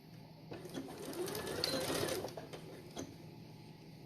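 A sewing machine stitches a diagonal seam in quilt binding, a quiet burst of rapid needle chatter that rises in the middle and tapers off, set against a hushed room.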